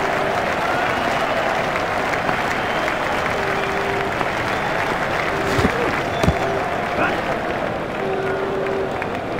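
A cricket crowd at a South Africa versus India match applauds a well-struck shot, with sustained clapping and crowd noise throughout, while a commentator talks over it and a few sharp knocks stand out.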